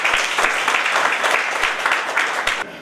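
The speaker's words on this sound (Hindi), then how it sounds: "जोरदार तालियां सकेंगे।" Enthusiastic audience applause at a company event, a dense, steady burst of many hands clapping that stops abruptly near the end.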